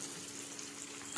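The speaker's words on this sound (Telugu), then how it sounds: "ఫ్రెండ్స్, చూసారా బాగా కాలుతుంది కదా" Food fries in a pan with a steady dense sizzle throughout, close and moderately quiet, with a slight swell at the end.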